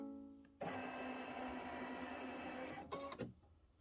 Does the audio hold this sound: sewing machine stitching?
yes